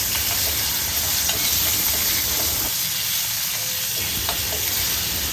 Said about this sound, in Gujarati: હવે તેમાં આપણે ગુંદા નાખીને હળવા હાથે તેને ચમચી વડે મિક્સ કરી લેશું